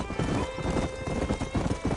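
Horses in the Red Dead Redemption video game trot with rhythmic hoof clip-clops and a whinny, fairly close, with game sounds around them.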